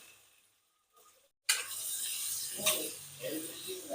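Paneer cubes sauté in a pan over medium gas with cumin, asafoetida and coriander-cumin powder for palak paneer. A loud, steady sizzle starts abruptly after a short quiet stretch and carries on with light stirring scrapes.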